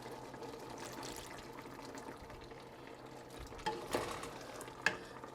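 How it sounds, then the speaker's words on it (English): Afang soup with fish and stock cooking in a pot, a soft steady bubbling and simmer with a few sharp clinks and stirring knocks near the end, quiet and without voices. "I'll add a little bit of my stock and allow it to cook"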